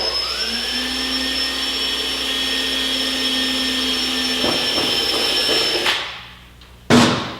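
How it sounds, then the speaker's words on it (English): A high, whining power drill with a step drill bit runs steadily for several seconds, boring holes in race bodywork fairing for a Honda CBR1000RR motorcycle, then winds down and stops before a brief burst starts again. "Once again with the step drill bit, obviously here be careful, let's not drill holes in your bike."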